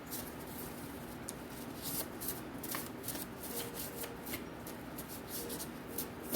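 Tarot cards are shuffled by hand in a quick, continuous flutter of riffles and soft slaps, close and fairly quiet, without speech.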